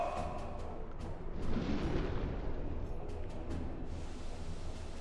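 Torpedoes launched from submarine tubes in the UBOAT game: a steady, heavy low rumble and rushing hiss that swells briefly, with faint muffled bumps over the drone of the boat's interior.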